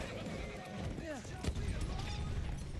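A horse whinnies in the video game Battlefield 1, a short pitched neigh rising over constant battle noise, with a sharp crack and hoof clatter around it.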